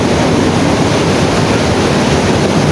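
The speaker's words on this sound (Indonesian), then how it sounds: "dengarkanlah suara ombak begitu kencang dia menghampar batu karang" Strong ocean waves crash continuously against coral rocks on a southern beach, a loud, dense roar of surf and spray that fills the scene without a break and with no voices.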